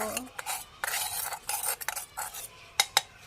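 Metal spoon scraping and clinking around a kadai while oil heats for cooking fish, a series of short scrapes and taps at close range with brief gaps between them and no voices.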